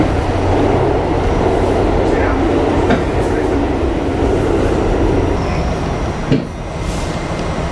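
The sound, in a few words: subway train at 110th Street station, New York City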